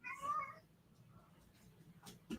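A cat gives a short, faint meow near the start, followed by quiet room noise and a brief soft sound at the end.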